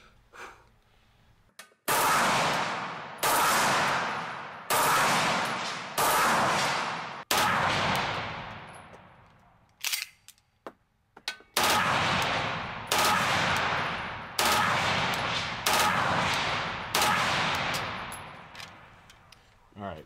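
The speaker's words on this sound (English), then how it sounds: "this is shooting 3-round burst. This is shooting 3-round bursts at 7 meters" Beretta 93R machine pistol fired in three-round bursts at a 7-meter range, a run of loud, sharp triple-shot volleys repeated about every two to three seconds with short echoing decays between bursts.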